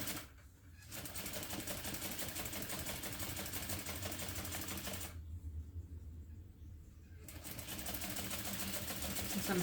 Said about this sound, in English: just sew the entire length of the line I drew